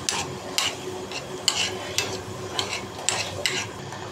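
Cashews fry in melted ghee for khichuri while a spoon stirs the pan, a soft steady sizzle broken by sharp regular scraping clinks about every half second; no voices.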